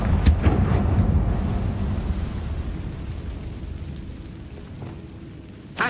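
A Confringo blasting spell explodes in a Harry Potter video game, a loud booming burst at the start that settles into a sustained rumbling roar and decays slowly, with a fresh crack right at the end.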